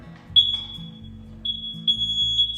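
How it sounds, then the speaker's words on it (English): A high-pitched smoke and carbon monoxide detector alarm beeps in steady bursts, sharp and piercing, over a low background hum. "Smoke detectors. And carbon monoxide."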